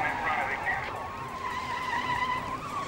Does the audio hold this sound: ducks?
no